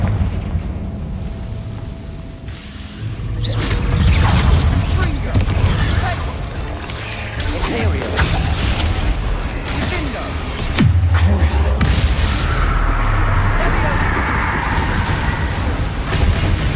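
Confringo blasting spell explosions in Hogwarts Legacy amid combat, repeated loud booms and crackling bursts with rumbling aftermath, voices heard intermittently through the fighting.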